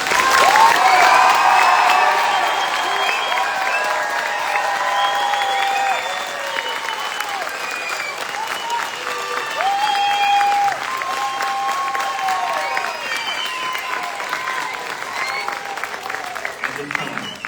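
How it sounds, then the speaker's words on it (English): A graduation crowd gives sustained applause and cheering for the Army's newest drill sergeant, with voices calling and shouting over a steady roar of clapping that eases slightly partway through. "please join me in a round of applause for the Army's newest drill sergeant"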